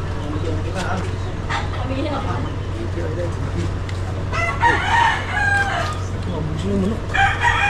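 Rooster crowing with some clucking fowl amid a noisy outdoor scene, the crows standing out in bursts over a steady low hum, with people talking throughout.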